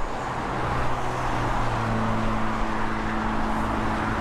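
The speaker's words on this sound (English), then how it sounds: "Have to excuse the road noise, but I'm over a bridge now." Steady road traffic noise from a busy main road below a bridge, a continuous broad rumble of passing cars and heavier vehicles, fairly loud and unbroken throughout, with no talk.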